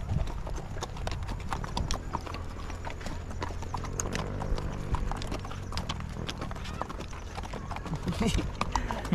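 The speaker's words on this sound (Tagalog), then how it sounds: "Ila, ayaw tumakbo yung kabayo." Horse hooves clip-clop in a steady, continuous rhythm close by, with voices talking now and then over the hoofbeats.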